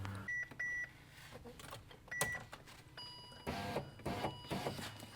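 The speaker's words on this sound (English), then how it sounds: "Now we're going to roll the window up, and hopefully the latch grabs it properly, and then we'll give it a test up and down" Electric window motor in a Fiat 500 door with a replaced regulator whirs in short bursts as the window rolls up, mixed with several sharp beeps and a few clicks and rattles, fairly faint and close.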